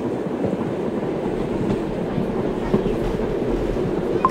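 A train rolls along steadily in the Cookie Run Kingdom video game, giving a continuous low rumble with faint rhythmic clatter that stays even throughout and carries no talk.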